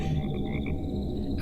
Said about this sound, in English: You hear the croaking of frogs.